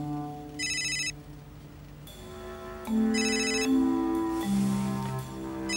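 A telephone rings with a melodic electronic ringtone, sounding in short repeated bursts over a soft, sustained musical background, indoors and fairly close.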